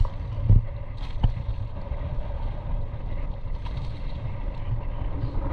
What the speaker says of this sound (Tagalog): Ay hangin lang talaga malakas.